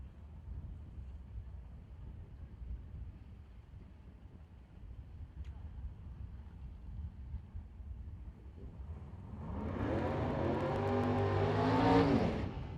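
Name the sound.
burnout by 1966 Chevrolet drag car, 590 cubic inch engine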